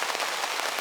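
Heavy rain pounding on a camping tent during a downpour, a dense, steady hiss of drops with no pauses and no voices.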